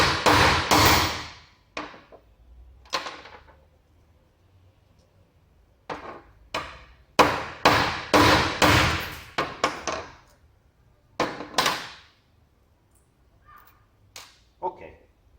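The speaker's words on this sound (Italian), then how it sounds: "e colpitela con un martello" A hammer strikes a spark plug resting on a surface to shatter it, giving a series of sharp, close cracks and knocks, some single and some in quick clusters, with pauses between.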